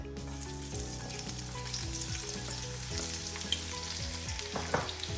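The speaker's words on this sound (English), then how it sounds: "So I'm going to fry the garlic cloves first." Whole garlic cloves fry in oil over a medium flame for a tarka with cumin seeds, giving a continuous soft sizzle under steady background music, with a couple of brief louder crackles near the end.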